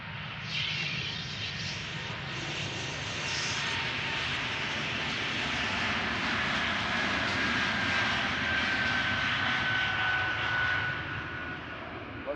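A business jet climbs away from Amsterdam Schiphol Airport with a sustained, broad engine roar that holds steady throughout, fairly loud and at a middle distance, with no voices.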